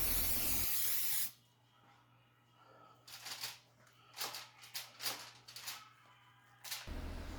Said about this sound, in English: Spray oil works great for this.